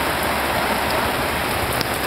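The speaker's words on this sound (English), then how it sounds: "Rain." Heavy rain falls steadily in the Bolivian jungle, a dense, continuous hiss of drops pattering on surfaces close by, with no voices.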